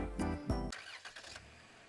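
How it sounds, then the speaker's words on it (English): A van engine cranks and catches, then revs briefly as it comes to life, close and fairly loud over a short burst. "The van revs to life."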